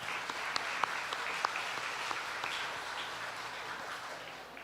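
A pageant audience gives princesses a steady round of applause, a dense wash of many hands clapping at moderate distance, fairly even throughout with no voices on top.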